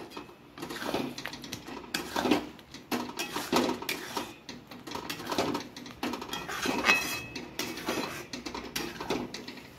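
Milk cream (malai) is whisked in a bowl, giving quick, irregular metallic clinks and scrapes of utensil against the dish, close and moderately loud, in bursts over several seconds with no speech.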